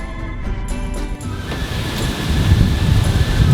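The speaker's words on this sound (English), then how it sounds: "Oh man, it's kind of windy." Gusty wind blows across an RV park outdoors, a steady broadband rush buffeting the microphone and building stronger toward the end, with no talking.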